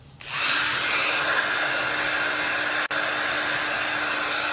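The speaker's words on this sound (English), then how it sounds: "Let me get my hair dryer." A hair dryer switches on and blows with a steady, loud whooshing roar, briefly dipping once before carrying on.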